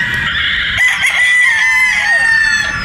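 Boston Roundhead broodstag roosters crow loudly and close, one long drawn-out call rising and holding, with another bird's crow and a faint cluck overlapping, with no talk.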